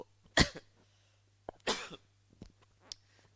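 A person coughs two times close to the microphone, each a sharp burst, followed by a few softer throat sounds, over a low steady hum.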